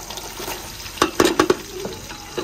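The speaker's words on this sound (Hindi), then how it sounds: "प्याज मैंने ऐड कर दिया। अभी इसको अच्छे तरीके से ब्राउन करते हैं।" Onions fry and brown in a pan, giving a steady sizzle broken by a few sharp stirring scrapes and clinks, close and fairly loud.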